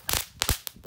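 A spinning gangsing kretek firecracker crackles in a fast run of sharp, loud pops and snaps, closely spaced and irregular in less than a second.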